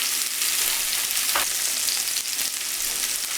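A pork chop searing in a hot pan gives a dense, steady sizzle throughout, with a brief scraping shuffle as the meat is moved around, close up and with no talking.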